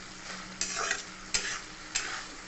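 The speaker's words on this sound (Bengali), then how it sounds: "অনবরত নাড়তে হবে, নিচে লেগে যাবে।" Potatoes and onions fry in fish oil in a pan, stirred with a utensil: a steady low sizzle broken by three sharp scraping stirs at even intervals, close and clear, with no voices.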